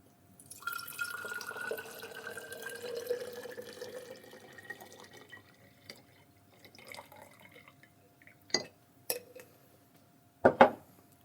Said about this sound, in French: Ensuite, je vais passer l'eau.